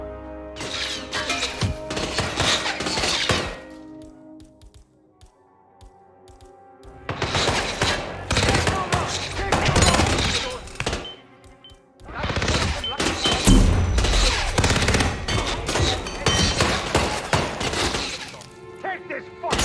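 Hitman 3 gunfire comes in three long, dense bursts of loud cracking and shattering, separated by short lulls, with voices talking throughout.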